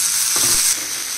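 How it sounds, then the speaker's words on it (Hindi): Onions and a large tomato fry in a hot pan, giving a loud, close, steady hiss of sizzling with a short stirring scrape, and no talking. "जब प्याज ऐसे पिंक हो जाए तो हम इसमें 1 बड़ा टमाटर डाल देंगे।"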